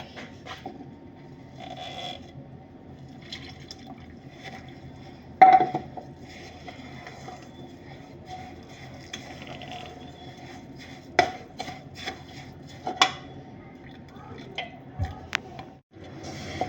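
A spoon stirs a warm, honey-sweetened semolina cake mixture in a bowl, giving soft, sparse scrapes and light clinks with a few sharper knocks against the bowl, all fairly quiet.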